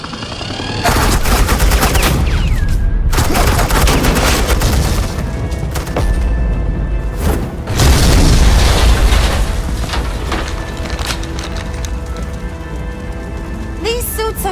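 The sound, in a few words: gunfire and explosion in Batman The Enemy Within video game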